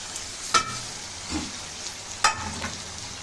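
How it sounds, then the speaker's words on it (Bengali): Chicken pieces hit a hot pan of fried-down spices, giving a steady close sizzle broken by a few sharp scraping stirs. "মশলা টশলা সব কষানো কমপ্লিট করে ফেলছি, এখন আমি মাংস দিয়ে দেব।"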